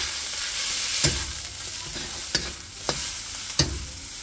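Leaves sizzle in hot oil in a pan for soya chilli, a steady close frying hiss broken by four sharp spatula scrapes or stirs at uneven intervals.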